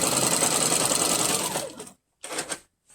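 A sewing machine fitted with a walking foot stitches across a quilt, whirring loudly and steadily close up, then stopping abruptly and giving one short final burst.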